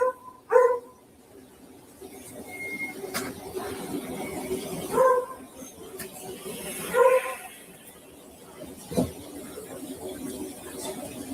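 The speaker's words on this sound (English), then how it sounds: "So we hear the dog barking." Dog barking in short bursts at night, several sharp barks spaced apart at moderate distance, heard among body-cam background noise and scattered speech.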